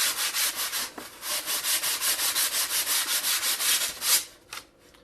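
Hand sanding of an EPP foam glider part, a steady run of close, rhythmic rubbing strokes about four per second, then a few looser scuffs as it stops.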